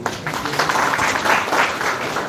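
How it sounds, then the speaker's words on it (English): A seminar audience gives a round of applause, with steady dense clapping sustained at a fairly loud level throughout, with no speech over it. "we would like to give him a round of applause, please"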